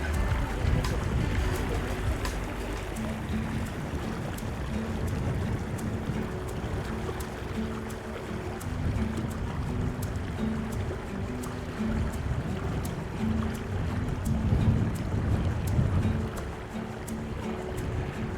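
Fast-flowing floodwater of a river beside a flooded towpath makes a steady, loud rushing roar with wind buffeting throughout.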